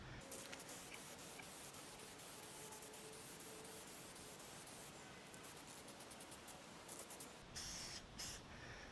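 Flat black Krylon spray paint hisses faintly onto an AR15 polymer lower in short, soft bursts, with light handling sounds and no talk.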